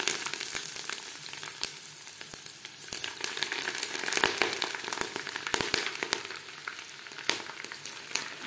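Hot oil sizzles in a pan while homemade mango pickle is prepared, a soft continuous frying hiss scattered with sharp crackles and pops, fairly quiet and with no voices.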